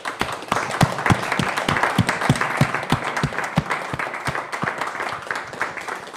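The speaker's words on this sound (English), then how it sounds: "And I think one big applause you deserve before we go to the next session." Conference audience at a one-day dance conference bursts into steady, lively applause, many hands clapping close and continuously with a few sharp individual claps standing out.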